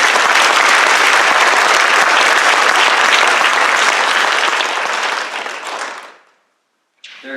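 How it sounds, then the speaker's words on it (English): A dense burst of audience applause at a high school community service awards ceremony, loud and sustained, then tapering away into silence with a brief sound at the very end. "So let's give another big round of applause."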